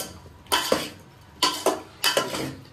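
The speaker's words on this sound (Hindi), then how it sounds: "अच्छा मिक्स कर देंगे, अच्छा मिक्स कर देंगे" Vegetables and spices for South Indian sambar are stirred in a pot, a spoon scraping and knocking against the metal in three distinct strokes over a soft sizzle, close and clear, no voices.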